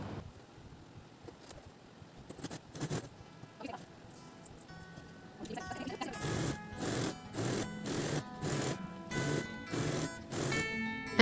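A sewing machine runs a line of stitching down the middle of an elastic waistband on a tulip-style dhoti salwar, its needle thumping in a fast regular rhythm up close after some quieter handling noises.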